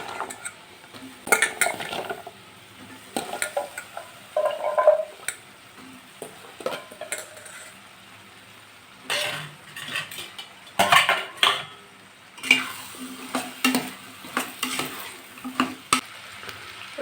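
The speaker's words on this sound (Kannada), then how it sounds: "ಎರಡನ್ನೂ ಹಾಕಿ ಮಿಕ್ಸ್ ಮಾಡ್ಕೊಳ್ಳೋಣ." Chana dal and chopped chayote being mixed in a pan for kootu, with irregular bursts of metal spoon scraping and clinking against the pan between quieter pauses, close and unaccompanied by speech.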